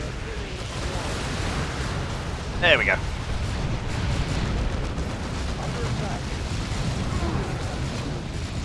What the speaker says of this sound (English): Just going to spray some rockets on that.